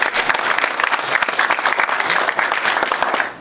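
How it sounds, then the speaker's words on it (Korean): Audience applause at a lecture on startups and intellectual property, a dense, steady burst of many hands clapping that lasts a few seconds with little talk over it. "우리 박수 한번."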